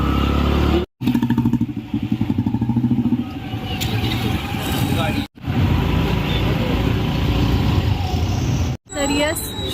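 A road vehicle, likely a motorcycle or car, drives toward a temple, its engine droning loud and close with clattering and wind, broken by brief cuts, while a voice talks over it.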